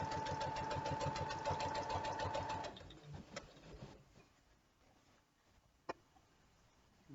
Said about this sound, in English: we're trying to keep our edge of our presser foot lined up with the edge of our fabric